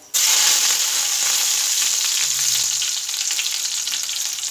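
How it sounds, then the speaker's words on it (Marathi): Curry leaves hit hot oil with golden fried garlic for kadhi, giving a loud, steady close-up sizzle that bursts in sharply and holds through the whole clip with no talking. "लसणाला छान सोनेरी रंग आलेला आहे यामध्ये आपण हे कढीपत्ता घालूयात"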